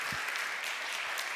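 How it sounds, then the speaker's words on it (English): A brief burst of steady applause from a lecture audience, clapping evenly throughout. "help me thank Dr. Tănăsescu with a very warm applause"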